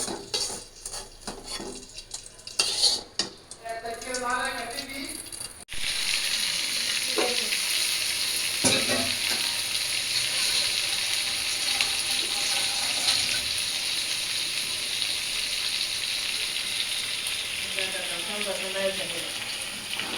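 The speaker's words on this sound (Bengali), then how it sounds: "মাংসটা কষা নিতেছি আর এই পাশে আলুটাও ভেজে নিতেছি" A loud, steady sizzle of meat browning and potatoes frying side by side in a wok fills most of the stretch, with occasional utensil clinks; a voice talks briefly near the start and end.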